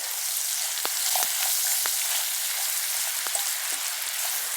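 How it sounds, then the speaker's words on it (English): Onion and garlic sauté in browned butter beside a steak in a pan, giving a steady close-up sizzle with scattered pops and crackles throughout, alone without talk. "I've got my onion and my garlic up here sauteing"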